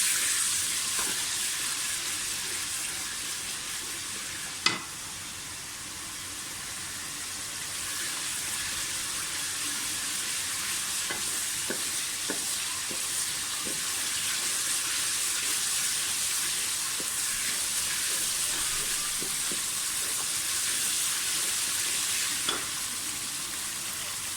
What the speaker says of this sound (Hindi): इसमें हम 2 टेबल स्पून जिंजर गार्लिक का पेस्ट डालेंगे, तो फ्राई कर लें।